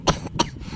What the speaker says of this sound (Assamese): তোৰ কি কাহ হৈ আছে নেকি?